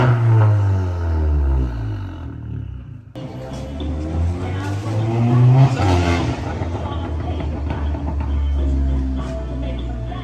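An Audi A3 fitted with an AWE Track exhaust revs hard nearby, with rising and falling engine tones, a brief cut in the sound, then sustained loud revving.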